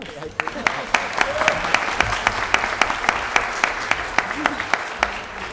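A board of education meeting audience gives scattered applause, individual claps ringing out in a loose, steady rhythm from a modest group in a room.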